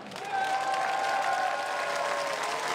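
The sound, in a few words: crowd applause at hockey stadium in Amsterdam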